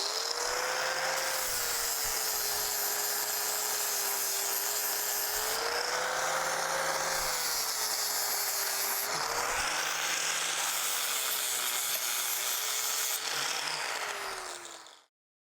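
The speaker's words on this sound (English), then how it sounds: "we use the flappy disc to be able to smooth it out" A flap disc grinder whines steadily while smoothing an iron railing, its pitch dipping and rising slightly as pressure on the metal changes, loud and continuous for about fifteen seconds with no talk.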